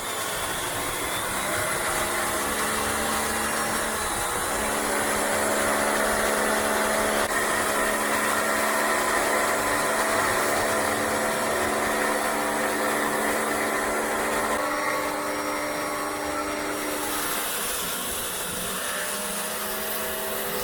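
Water spraying Thermal XR coil cleaner off an aged, corroded aluminium air-conditioner condenser coil, a steady loud machine-like drone with a hissing wash on top, continuing unbroken throughout.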